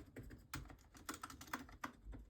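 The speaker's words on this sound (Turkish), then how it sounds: "Yön tuşları biraz daha açıkçası ses veriyor ama bunlarda daha smooth bir basış hissiyatı var." Soft, muffled key presses tap out in an uneven rhythm on a membrane computer keyboard, close and quiet, with no one speaking.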